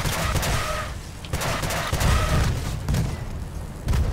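Six trombone weapons on an Aurora support build fire in the vehicle combat game Crossout, giving a run of loud, heavy booming blasts that repeat at intervals over a steady low rumble.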